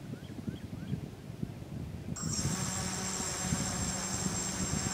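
A box-frame quadcopter's motors arm and throttle up for its first flight outdoors. After a quiet stretch of faint ambient noise, a steady high-pitched whine starts abruptly and holds.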